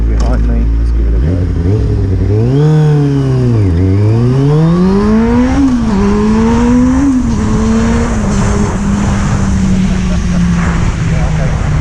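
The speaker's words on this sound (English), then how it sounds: "Considerably better rumble. Its idle is strong rather than slightly sporadic as it was before." A Kawasaki ZX6-R motorcycle engine revs loud and close, its pitch climbing through sharp rises and dips before accelerating away into a long, steadily settling whine.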